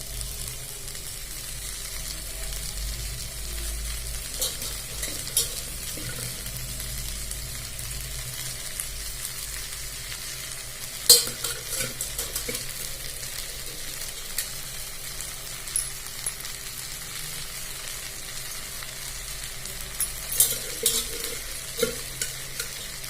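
Leftover rice gets stirred into fried vegetables in a pan, a steady low scraping and soft sizzle running throughout with occasional sharper clinks of the utensil, close and moderate in level.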